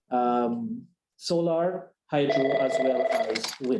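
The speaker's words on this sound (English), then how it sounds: "My apologies for the phone there." A telephone rings during an online business webinar about investment in Guyana, a tonal ringing pattern sounding in bursts between and beneath a man's steady speech about energy.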